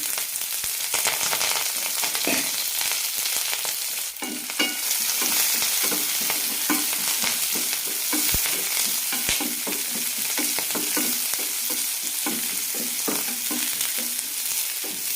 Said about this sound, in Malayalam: കടുക് പൊട്ടിക്കഴിയുമ്പോൾ സവാളയും പച്ചമുളകും ഇടാം.